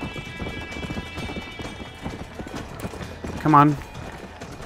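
A horse gallops in the video game Red Dead Redemption, with steady rapid clip-clop hoofbeats close up. A man urges it on partway through, and a brief whinny follows.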